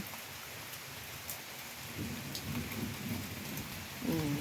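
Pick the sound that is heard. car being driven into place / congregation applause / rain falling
rain falling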